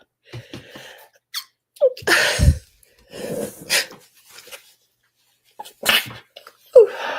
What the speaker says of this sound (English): Gotta sneeze again, guys.